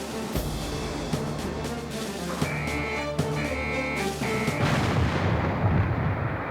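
Battleship Missouri's 16-inch guns firing in rotation, heavy booming blasts repeating over a continuous loud roar of wind or engine noise.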